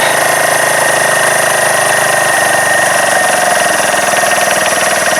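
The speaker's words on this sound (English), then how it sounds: "Still idling a little fast." A Keeway RKV125 motorcycle engine idles fast, loud and close at a quick, steady beat, its rapid pulsing rhythm running unbroken with no voices.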